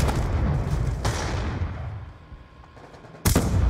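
Gunfire in Call of Duty Black Ops 2 hardcore multiplayer, a dense loud volley of shots and booming reports that eases into a quieter stretch before a sudden sharp blast at the end.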